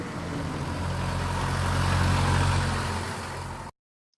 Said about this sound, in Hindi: ये भी थोड़ा सा पासिंग वाला इफेक्ट है कि गाड़ी जिसमें पास हो रही है